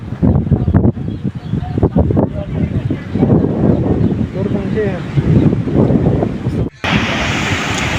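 Strong, gusty wind from a thunderstorm roars across the microphone in steady, buffeting bursts, with a person talking underneath the rushing noise.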